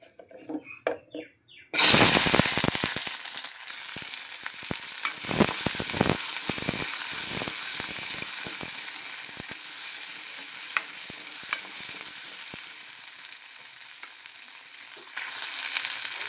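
Small onions dropped into hot oil for a village-style mutton curry, a sudden loud sizzle that stays steady and hissing, with stirring scrapes. Quiet talk comes just before the onions go in.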